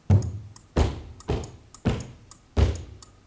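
A group of people stomp on a large wooden stage five times in a loose, steady rhythm, each hit a close, deep thud with a brief woody decay.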